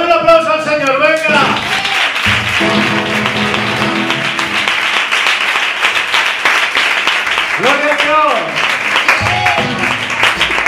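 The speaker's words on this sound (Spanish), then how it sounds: "Ahora sí, dame un aplauso al señor, venga." A church congregation at a youth choir gathering in Castellón claps loudly and continuously, with voices and bursts of singing at the start and again near the end.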